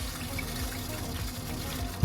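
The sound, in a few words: water running through under-sink reverse osmosis filter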